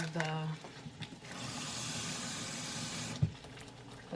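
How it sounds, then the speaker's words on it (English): Water poured into a hot pan of garlic tomato sauce, a steady hissing sizzle and splash running for a few seconds, close up, ending with a brief clunk. "So I'm adding 2 cups of water"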